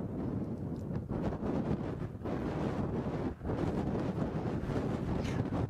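Steady wind buffets an outdoor microphone at sunset during a lion sighting, a heavy continuous rumble with gusty surges and no clear voices.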